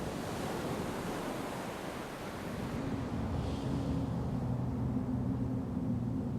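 Ocean waves wash in a constant, roaring hiss of surf, with a low rumble underneath and no voices.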